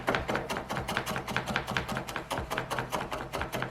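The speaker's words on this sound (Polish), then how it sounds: "czosnek siekamy najpierw tak jak widzicie" A knife chops garlic on a board in quick, even strokes, a steady run of several sharp taps per second, fairly soft and close with no talk.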